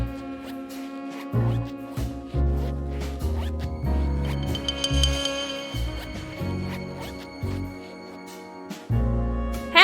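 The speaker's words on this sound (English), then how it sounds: "That is the worst zipper." A cartoonish zipper effect from the game Chicken Police, played loud against game music with a steady low beat, a rising zip sweep standing out midway.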